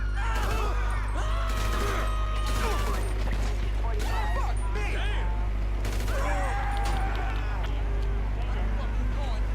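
Video game gunfire crackles in steady bursts through a police chase scene, with engine hum, sirens or tonal effects and scattered crashes, all loud and continuous; someone talks throughout.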